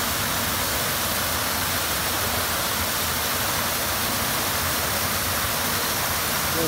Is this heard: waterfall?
yes